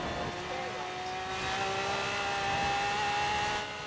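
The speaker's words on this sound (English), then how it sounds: "Listen to that exhaust" A 2011 Lamborghini Gallardo LP570-4 Superleggera in Forza Horizon 3 sounds its exhaust in a sustained engine tone that climbs gradually in pitch as it revs, moderately loud and steady.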